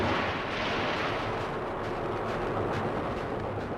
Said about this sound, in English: For 5 hours, these aircraft bombed and strafed the fleet sitting in the bay.